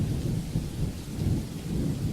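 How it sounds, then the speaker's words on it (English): A torrential storm downpour roars with low rumbling thunder, a dense, loud, continuous wash of rain with no pauses. "reached the mansion before the downpour is torrential"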